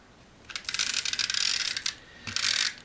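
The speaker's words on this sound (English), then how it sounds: "you're just going to take your tape runner" A tape runner rolling adhesive onto paper, making two close, steady rasping zips, the first longer and the second shorter after a brief pause, with no talk.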